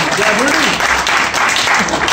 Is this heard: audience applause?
yes